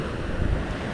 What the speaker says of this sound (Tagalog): Kalmado kanina, lakas ang hangin.